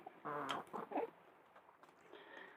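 Egg-laying hens kept by a Thai household in the United States give several short clucks close by, followed by quieter scratchy fowl sounds.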